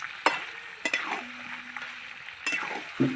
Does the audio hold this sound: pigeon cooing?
no